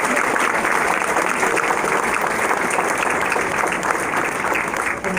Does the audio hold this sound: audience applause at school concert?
yes